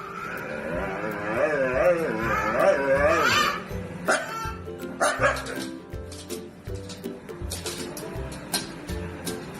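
A Siberian Husky vocalizes and barks in a varied, singing run of yips, bow-wows and whines, loud and close, with drawn-out howl-like calls at first and choppier barks later.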